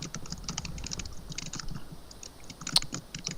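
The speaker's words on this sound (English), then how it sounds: "Flora, are you typing again?" Computer keyboard typing, a steady patter of quick light key clicks at close range with uneven rhythm and occasional sharper taps, no voices over it.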